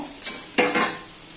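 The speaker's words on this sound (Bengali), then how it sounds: "এবার আমি সোয়াবিনগুলো ভেজে নেব" Soybean chunks frying in a pan, heard as a few brief clinks and scrapes of a utensil against the pan over a soft, steady background hiss, with no talk.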